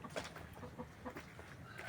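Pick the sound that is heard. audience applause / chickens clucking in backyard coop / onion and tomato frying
chickens clucking in backyard coop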